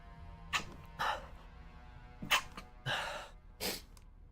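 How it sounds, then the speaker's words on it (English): Several sharp sneezes from a person at a gaming setup, loud and close, bursting out in separate blasts with short pauses between them and no talking. "Oh, gonna sneeze."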